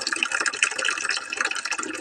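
Water poured or run into a container to fill drinking water for goats on a rural farm: a steady splashing, gurgling fill, loud and close, continuous throughout with no speech.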